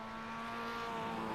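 Race car engine in a racing video game, a steady sustained engine tone with constant harmonics, fairly faint and alone with no talk over it.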